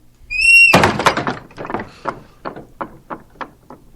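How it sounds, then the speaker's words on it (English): A door swings shut with a high squeal followed by a heavy thunk, then several softer rattling knocks fade out over a few seconds; no talking. "That's the door closing on us."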